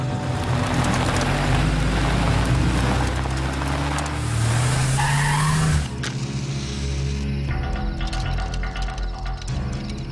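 A car tears away fast in a chase, tires squealing and skidding with a rising engine whine for several seconds, then cutting to a rattling, mechanical clatter; loud and close, with no voices.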